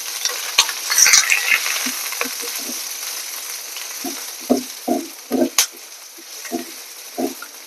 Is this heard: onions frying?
yes